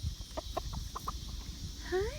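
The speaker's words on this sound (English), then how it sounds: "This is our sweet chicken." A pet hen clucking close by, a run of short soft clucks followed by a longer rising squawk, with quiet household background.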